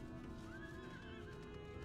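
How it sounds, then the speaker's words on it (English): A horse in the Final Fantasy XIV game gives a quiet whinny as it is mounted, a brief rising-and-falling neigh over a steady low game soundscape, with hooves faint beneath. "Let me get on a horse."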